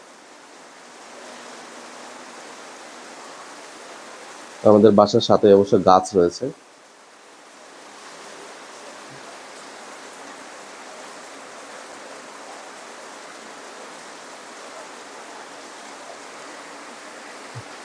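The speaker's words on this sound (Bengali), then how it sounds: "দেখুন কি পরিমাণ বৃষ্টি হচ্ছে।" Heavy rain falling steadily beside a house with trees nearby, a constant broad rushing wash that runs throughout, briefly covered by a loud burst of nearby talking near the start.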